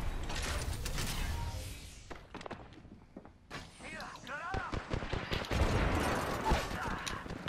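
Heavy automatic gunfire from a mobile minigun in a video game, dense bursts of rapid shots with mechanical clatter, loud and close, dropping briefly before resuming amid other battle noise while players talk.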